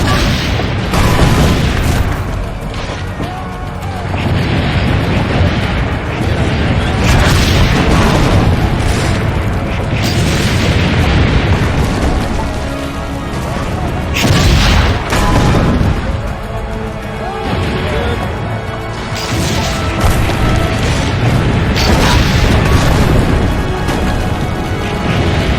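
Cannon fire and explosions in Assassin's Creed Brotherhood, loud repeated booms bursting every few seconds over a dense, continuous roar of battle, with voices shouting underneath.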